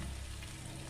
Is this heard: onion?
yes